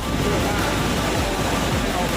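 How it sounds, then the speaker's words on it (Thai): Rushing water pours down at Tad Yuang waterfall in Laos, a loud, constant broadband roar close by that stays unbroken throughout. "แล้วก็น้ำไหลลงมาตรงนี้นะครับผม"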